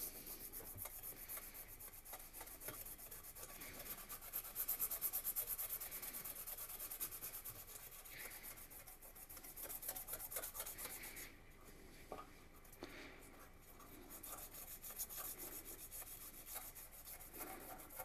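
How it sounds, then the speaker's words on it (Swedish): Hand sanding on a part of a 1965 Volvo Amazon, done to clear leftover contact adhesive. A steady, close rasping rub runs throughout in repeated strokes, with brief louder bursts and no talk. "Då får vi nog slipa på ett litet"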